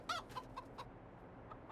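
Chickens in the video game Farming Simulator 22 cluck in a few short, sharp bursts, then quieter scattered clucks follow over a soft steady background hum.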